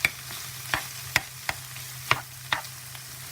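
Vegetables, peppers and onions, frying in olive oil in a pan, a steady soft sizzle broken by sharp scraping stirs at a regular pace, close and fairly quiet.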